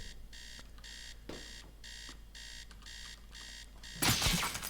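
An alarm clock in the video game Teardown rings in a steady repeating pattern of bright electronic bursts, then a loud crash or shatter abruptly cuts it off at the end.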